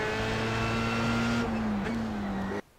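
Formula 3 race car at Circuit Gilles Villeneuve under full throttle: a loud, close engine note holds steady, dips briefly twice during gear changes and keeps climbing, then cuts off abruptly near the end.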